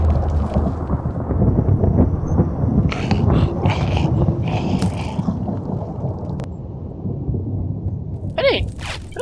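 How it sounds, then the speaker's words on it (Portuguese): Heavy rainstorm with rolling thunder in the Minecraft video game, a steady loud roar of rain and deep rumble filling the whole stretch, with a few brighter crackles midway and a brief animal-like cry near the end. "É só chuva forte, trovão."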